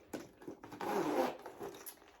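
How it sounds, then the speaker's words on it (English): A zip on a Louis Vuitton bag, a Speedy 20 or Alma BB, is pulled in a few quiet, close, rasping strokes, with one longer pull in the middle. "double zip."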